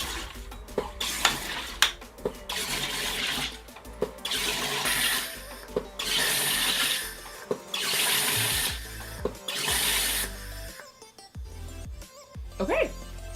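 A SodaStream Fizzi One Touch sparkling water maker carbonating water in bursts: several loud hissing gas injections of a second or two each, separated by clicks and short pauses, ending in quieter bubbling.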